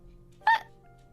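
A single short, sharp hiccup pops out of near silence, close to the microphone during a casual online chat.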